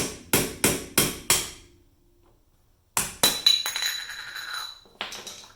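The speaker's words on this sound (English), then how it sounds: "So I have a striking screwdriver. Just kind of work this thing off." A striking screwdriver is hammered against a metal dust cap on a Camaro front wheel hub: four sharp, ringing metallic blows in quick rhythm, a pause, then another burst of clanking strikes and a clinking rattle as the cap works loose.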